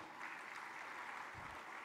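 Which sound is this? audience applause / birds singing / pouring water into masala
audience applause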